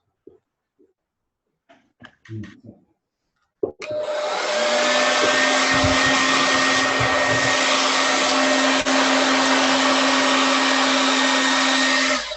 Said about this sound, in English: I just plugged the blow dryer in it